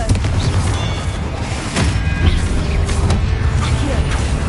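A Confringo spell blast in Hogwarts Legacy comes as a loud, dense rumbling boom over a heavy low-end roar, with sharper crackling bursts scattered through the few seconds of combat noise.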